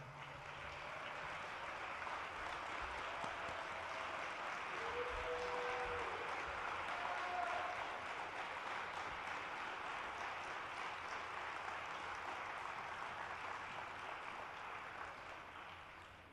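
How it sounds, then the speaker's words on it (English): Sustained applause from a crowd at an athletics hall of fame banquet, steady and dense throughout, with faint cheering mixed in and the clapping tapering slightly at the end. "let's give them a huge round of applause"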